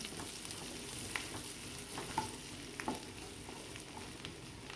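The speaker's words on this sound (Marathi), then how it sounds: "त्यात लसणाच्या बाकड्या कट करून घेतलेल्या तुम्ही घेतलेलं आलो असं थोडंसं फ्राय करणार आहोत" Chopped garlic and ginger fry in hot oil in a pan, giving a steady close sizzle with faint crackles and occasional stirring ticks, no talking.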